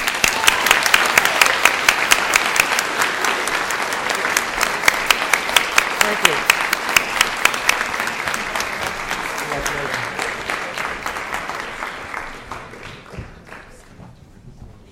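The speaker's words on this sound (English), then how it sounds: "let me ask that we send them off with a round of applause." Audience applause at a Rotary Club meeting honoring scholarship students, a dense steady round of clapping that fills most of the stretch and slowly fades toward the end, with a brief spoken thank-you over it.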